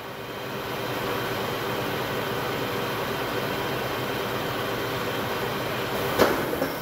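A 1998 Tos W100A horizontal boring mill runs its spindle at 560 RPM, giving a steady, even machine drone throughout with a brief knock near the end, and no talking.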